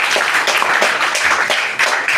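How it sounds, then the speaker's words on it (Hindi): Loud, close applause from an audience at a gathering in India, dense clapping with rhythmic surges throughout the short burst. "जोरदार ताली।"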